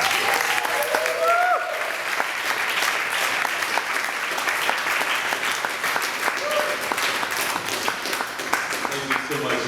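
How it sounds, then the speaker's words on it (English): An audience applauds for speaker Stuart Sheldon, with dense, steady clapping filling the room throughout, a few scattered voices and whoops mixed in. "Please give a round of applause to Stuart Sheldon"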